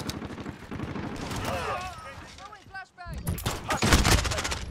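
Gunfire in the video game Modern Warfare, rapid bursts and volleys crackling loudly through the whole stretch, dense and close, with garbled radio-style voices and game chatter woven underneath.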